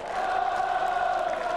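A large crowd of about 3,000 cricket fans at a County Championship match between Somerset and Glamorgan cheers and chants in a sustained, tonal roar heard from a distance.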